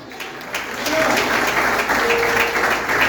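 A church congregation at a family service breaks into applause, a loud sustained wash of clapping that swells after the first second and keeps going steadily, with faint voices mixed in.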